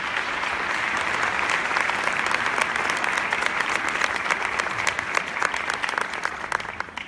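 A conference audience at a 2016 brand event bursts into sustained, dense applause for the technical team, steady and fairly loud from start to finish with no talking over it.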